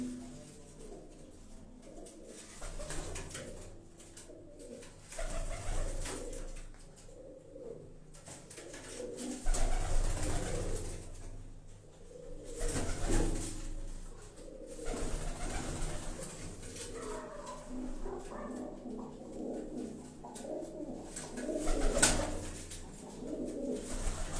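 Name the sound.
cooing of migratory pigeons kept at home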